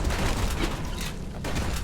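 Turrets firing in the video game Bastion: a dense rapid fusillade of game gunfire with booming impacts, loud and continuous throughout.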